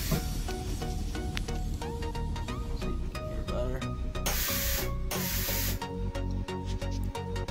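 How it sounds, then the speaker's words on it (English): Two bursts of loud hissing spray, each about half a second long, as an intercooler sprayer blows only air from its tank onto a car's intercooler, cutting through a busy background of mechanical noise. "there's only air left in the tank, I guess. So it's not really spraying anything cold on the intercooler"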